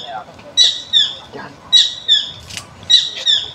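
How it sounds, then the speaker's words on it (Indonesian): A forest bird calling outdoors, three pairs of sharp, squawking call notes repeating at a steady pace, clear and fairly close over a quiet background. "Burung apa itu?"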